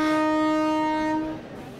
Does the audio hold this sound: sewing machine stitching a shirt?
no